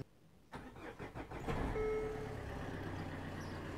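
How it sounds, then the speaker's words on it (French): Diesel common rail car engine cranks with a few rapid pulses, then catches and settles into a steady idle, close and fairly loud after a quiet start. "Je vais faire le démarrage."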